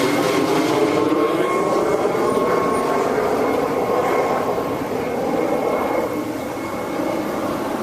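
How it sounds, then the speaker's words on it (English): A helicopter passes overhead near a beach on the way to a ferry, its steady rotor and engine roar loud and continuous, mixed with broad outdoor rumble. "Helicopter!"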